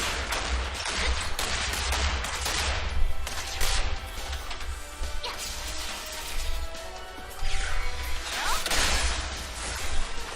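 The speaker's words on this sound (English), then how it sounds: "Boom! That's Michael Bay" Dense action combat in the SoulWorker game, with crashing impacts, rapid gunfire bursts and whooshes layered continuously over a heavy low-end music bed throughout.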